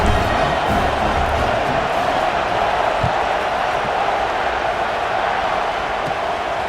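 A stadium crowd in College Football 26 keeps up a steady, broad roar, a continuous wash of cheering voices at even loudness with no distinct peaks.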